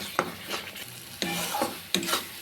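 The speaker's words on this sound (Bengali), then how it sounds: "এবার মশলাটাকে আরও কিছুক্ষণ কষিয়ে নিব।" A spice paste of turmeric, chili, cumin and coriander powder with salt is stir-fried for an egg curry, with three or four short spatula scrapes over a soft sizzle, fairly close and moderately quiet.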